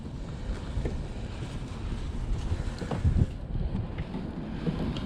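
Wind gusting across open coastal water near Waldport, Oregon, during a kayak crabbing trip, a steady broad rushing roar buffeting the microphone with a few faint water splashes and no talk.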